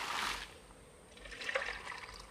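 Liquid organic fertilizer poured out on an organic farm, a soft trickling, splashing flow that comes in two short bursts, close and fairly quiet, with no talking.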